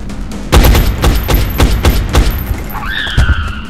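Bursts of gunfire from the turn-based strategy game XCOM: Enemy Unknown, loud and close, with several rapid shots over a couple of seconds followed by a rising electronic whine.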